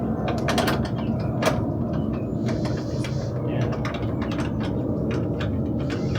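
A ratchet fitted with a 13 mm socket tightens a bolt with lock washers while a Toyota Tacoma TRD Pro fog light is installed, a run of quick, close clicks over a steady mechanical background.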